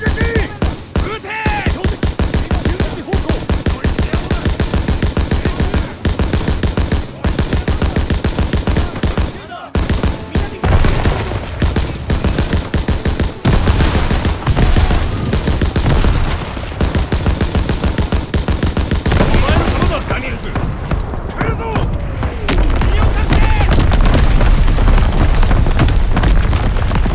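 Dense, sustained gunfire from a World War II forest battle in Call of Duty: WWII, with rapid machine-gun bursts and rifle shots packed tightly together, loud and close throughout, a few brief gaps, and the battle noise swelling near the end.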